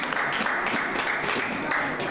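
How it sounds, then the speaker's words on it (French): A church congregation claps in a steady, dense wash of applause that fills the room, loud and continuous throughout, with voices mixed in underneath. "acclamons pour la parole de Dieu"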